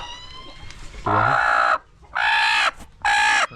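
A black broody hen gives three loud, harsh, drawn-out calls in a row with short gaps between them, each close and strained, over a quiet background with some faint murmur before the first.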